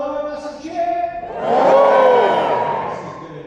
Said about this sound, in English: Everyone on the floor, hello, massive cheer